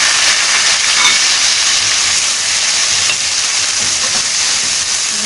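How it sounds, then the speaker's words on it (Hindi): Sliced onions dropped into hot oil for chicken palak sizzle with a loud, steady hiss that stays close and continuous for several seconds. "अच्छी तरह से गर्म हो गया था ऑयल। हमने इसमें प्याज डाल दिए।"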